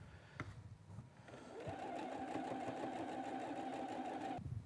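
A sewing machine stitches quilt rows together in a steady, even whir lasting a few seconds, preceded by brief handling clicks and quiet close-up noise.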